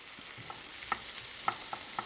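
Onions frying at medium to medium-high heat in a pan, with a soft steady sizzle and a few light stirring clicks spaced across the moment, close by and fairly quiet.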